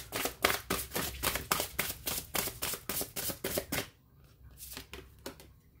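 Tarot cards are drawn from a deck in a rapid run of about a dozen crisp, close snapping flicks, then a pause and a few softer card sounds near the end.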